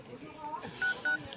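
Two short, steady phone keypad tones beep in quick succession, loud and close, following a fainter tone, over a background of low murmuring voices.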